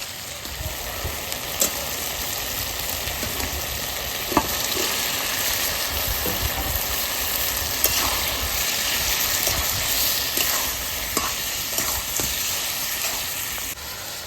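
Chicken gizzards frying in oil with salt and turmeric, producing a strong, continuous close sizzle and crackle with occasional sharp pops and stirring scrapes, and no talking.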